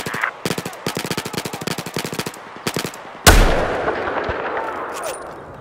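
Rapid bursts of automatic gunfire in Battlefield 4 on Dragon Valley, sharp repeated cracks in quick volleys, then one heavy booming shot with a long rumbling echo fading away.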